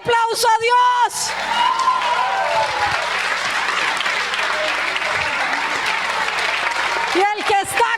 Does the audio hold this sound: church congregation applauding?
yes